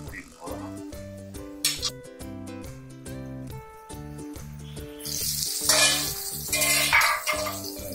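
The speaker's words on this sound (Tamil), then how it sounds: "ஒவ்வொரு 2 நிமிஷத்துக்கு ஒரு தடவை இந்த மாதிரி கொஞ்சம் கொஞ்சம் கிண்டி விட்டுட்டு" Dried fish thokku sizzles in oil in a pan as it gets an occasional stir, with soft scraping and clinks. Background music plays throughout, and the frying hiss swells louder toward the end.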